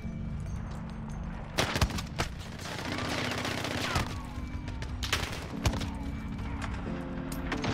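Rytec AMR sniper rifle firing explosive rounds in Modern Warfare: a few heavy, spaced booming shots with mechanical handling noise between them, over a steady game background.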